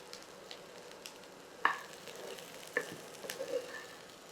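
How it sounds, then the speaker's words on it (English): Broccoli sautéing in a pan gives a quiet, steady sizzle, broken by a few distinct utensil taps and scrapes, without talk. "हम थोड़े broccoli add कर देंगे और अच्छे से उसको सॉटे कर लेंगे"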